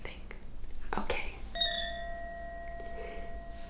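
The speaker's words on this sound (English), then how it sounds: "this might look familiar to you. Wind chimes, right?" Koshi wind chimes ring close up in a quiet room, one bright struck chime with clear sustained tones that slowly fade, after soft rustling and brief handling sounds.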